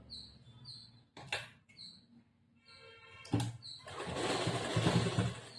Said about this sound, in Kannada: ಹಿಂಗ ಇದ್ರ ಮೇಲೆ ಈ ಪೂರ್ತಿ ಇಲ್ಲಿ ತುದಿಗೆ ಒಂದ್ ಹೊಲಿಗೆ ಹಾಕ್ಬೇಕು.